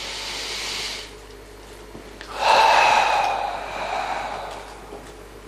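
A deep breath drawn in and let out during a guided breathing exercise, a breathy rush that swells, peaks, then trails off slowly, close and fairly soft with no talk over it.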